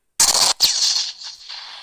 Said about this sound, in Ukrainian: Стріляємо.